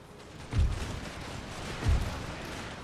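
A musket volley fired on lancers in the Empire Total War video game, with two deep, muffled booming discharges over a constant battlefield rumble.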